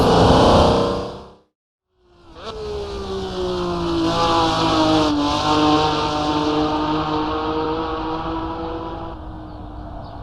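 A vintage Grand Prix race car in Assetto Corsa roars through gears, a loud engine note cutting out briefly then climbing in pitch through a long sustained pull, close and continuous, with no talking.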